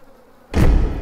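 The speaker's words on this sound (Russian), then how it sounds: "И мухи летают." Flies buzz in a bathroom in the horror game Don't Knock Twice, a sudden loud burst of droning that starts halfway through after a quiet stretch and carries on steadily to the end.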